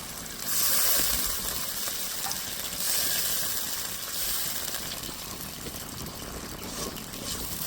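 Spice-washing water poured into a hot pan holding ground ginger, cumin and dried red chilli pastes for a rohu fish oil-jhal curry, giving a steady watery hiss and sizzle that swells early and continues for several seconds.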